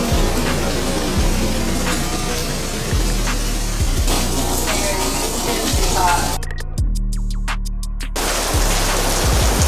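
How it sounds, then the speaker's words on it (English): Heavy summer rain in Atlanta makes a dense, loud, continuous hiss of drops, with low thumps repeating every second or so throughout. "We got a little bit of rain"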